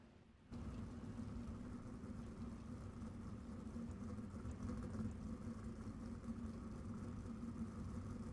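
Sprint cars sit idling on the front stretch of a race track while waiting to grid out for a feature, a steady low engine drone starting abruptly and holding at a constant level.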